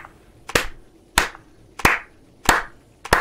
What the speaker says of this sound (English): do the slow clap